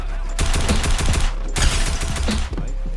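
Tactical assault rifle fired from the hip in a video game: two loud, rapid bursts of automatic gunfire separated by a short pause, close and dominant.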